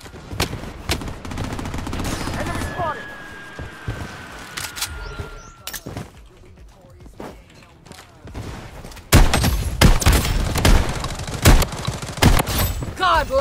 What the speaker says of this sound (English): Taking fire! Enemy spotted!